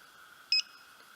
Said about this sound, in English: till you hear a beep.